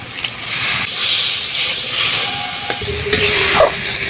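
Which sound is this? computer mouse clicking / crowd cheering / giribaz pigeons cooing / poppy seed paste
poppy seed paste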